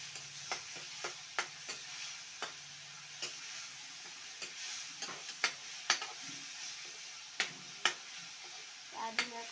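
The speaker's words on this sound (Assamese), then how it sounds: "এতিয়া মই লৰাই দিওঁ" Food seasoned with salt and turmeric is stirred in a pan, giving sharp, scattered scraping taps and clinks at an irregular pace over a soft, low background hiss.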